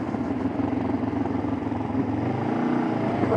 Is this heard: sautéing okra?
no